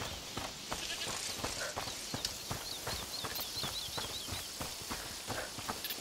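A goat in the video game A Plague Tale: Requiem gives short bleats over a steady bed of game ambience and clopping hoof-like taps, with no voices.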